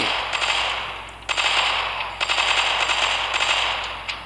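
Loud, rapid automatic gunfire in the zombie mode of the mobile shooter Crossfire Legends, in several dense sustained bursts separated by brief pauses.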